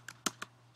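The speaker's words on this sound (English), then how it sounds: "To do so, type on your URL bar" A web address typed on a computer keyboard, three quick, crisp key clicks close by, the middle one loudest, over a faint steady hum.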